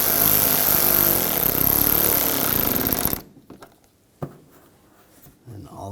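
Screws are driven into a bumper bracket on a 2011-2018 Volkswagen Jetta, a loud, close power-tool whir for about three seconds, then stops, leaving a few faint clicks and handling sounds.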